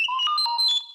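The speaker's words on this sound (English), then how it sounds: "You will know it is time to turn the page when you hear R2-D2 beep like this." R2-D2 droid beeping as a page-turn cue on a vintage Star Wars read-along record: a short, bright burst of warbling electronic chirps and sliding tones, clear and alone.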